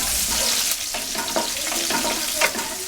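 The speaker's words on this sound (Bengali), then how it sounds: "এ পর্যায়ে কিছুক্ষণ ভেজে নিচ্ছি।" Sliced onions sizzle in hot oil in a pan for a radish-leaf stir-fry, a steady loud hiss with small crackles and a few stirring scrapes, no voices.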